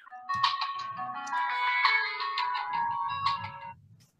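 A melodic phone ringtone plays a quick chiming tune for about three and a half seconds, bright and fairly loud, with soft low tones underneath.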